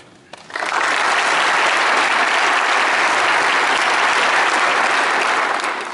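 Sustained audience applause at the dedication ceremony of NASA's Armstrong Flight Research Center for a distinguished guest, U.S. Representative Kevin McCarthy, swelling quickly after a brief quiet start and holding loud and steady throughout.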